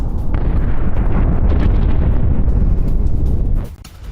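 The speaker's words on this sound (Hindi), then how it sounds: "शिराज में एक के बाद एक जोरदार धमाके हुए" Powerful explosions from bombing strikes on Iranian military sites in Shiraz roar as a loud, sustained rumbling blast that fills most of the clip before cutting off abruptly near the end.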